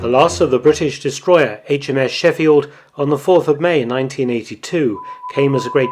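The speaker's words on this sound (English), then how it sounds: "Sorry about the beeping." A steady electronic beep tone sounds near the end, under continuous narration by a man.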